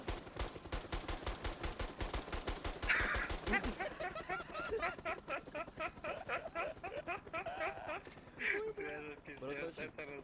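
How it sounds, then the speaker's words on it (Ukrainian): Fast, evenly spaced gunfire from a helicopter in the video game Squad pounds steadily, then gives way to someone talking over lighter intermittent shots. "Братський вертольот стріляє."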